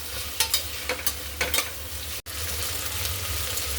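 Potato and cauliflower added to softened tomato in a hot pan for a soybean pulao, sizzling steadily while a spoon stirs and scrapes through the vegetables in several short strokes.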